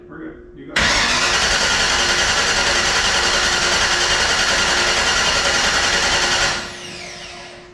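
A King's Cobra replica car's engine catches on its first start and roars loudly into a steady, high-revving run for several seconds before easing off, with people's voices briefly heard.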